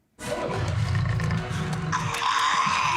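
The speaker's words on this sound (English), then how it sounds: "Now this one sounds like a lion." A lion-like creature roar from the film Constantine, a loud, sustained growling bellow lasting several seconds, with a harsher, brighter layer swelling in toward the end.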